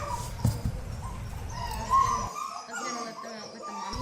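Several puppies whine and whimper in high, wavering cries, with a few short yips breaking through, close and fairly loud.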